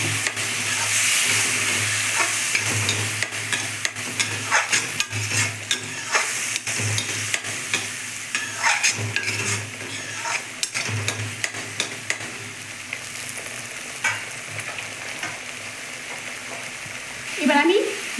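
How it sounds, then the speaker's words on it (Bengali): Spice paste for a Bengali katla fish curry sizzles and fries loudly in a pan while being stirred, with spoon scrapes and a hiss of steam toward the end. "মশলাটা একটু কষে আসতে একটু জল দিচ্ছি।"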